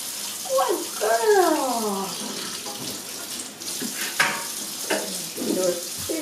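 Running water from a kitchen sink rinses a young Cavalier King Charles Spaniel puppy during its first bath, a constant splashing hiss throughout, with whimpers or squeaky voices rising over it near the start.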